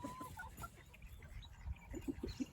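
Young chicks in a farm coop clucking in soft, short bursts that grow more frequent near the end, faint against a low background murmur.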